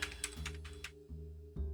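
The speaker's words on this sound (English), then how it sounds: "I'm trying to think and type at the same time" Typing on an old Amiga 500 keyboard brings a quick run of clacky keystrokes and then two more separate presses, close up over a low electrical hum, with no talking.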